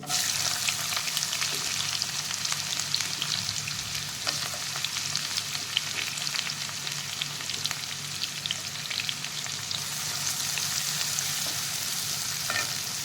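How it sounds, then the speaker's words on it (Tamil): Small shallots and curry leaves fry in hot oil for a chicken gravy, giving a steady, dense sizzle that continues evenly throughout with no voices. "வெங்காயமும் கருவேப்பிலையும் நல்லா வதங்கிருச்சு"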